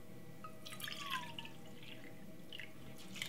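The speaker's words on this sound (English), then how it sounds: "So we're using 2 cups of water for the 1 cup of rice." Water pours into a pot holding black rice for cooking, faint close dripping and splashing with small trickling plinks over a quiet room hum.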